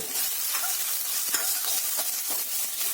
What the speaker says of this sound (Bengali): পেঁয়াজ দিয়ে দিলাম কাটা। এবার 1 মিনিট ফ্রাই করব।